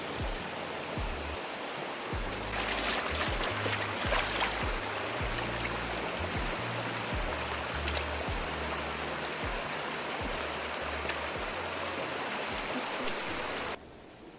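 River water flows in a steady, broadband rush at an off-grid riverside campsite where clothes are being rinsed, close and continuous throughout with no voices.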